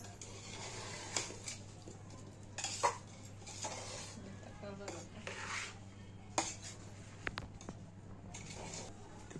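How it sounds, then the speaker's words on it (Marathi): Utensil scraping and clinking against a pot as a lemon pickle mixture is stirred, with repeated metallic taps and scrapes in an irregular rhythm over a steady low hum, fairly faint and close. "पूर्णपणे असं मिक्स करून घ्यायचं आहे व्यवस्थित"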